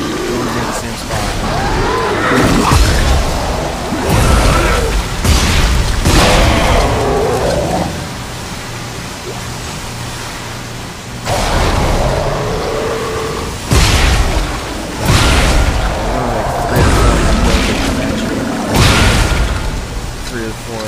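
Gunfire and heavy explosions from Dead Space 2 on Hardcore, loud repeated booming blasts and bursts of shots through the passage, with talk heard in places over the action.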